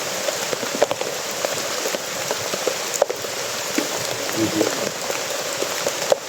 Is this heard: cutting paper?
no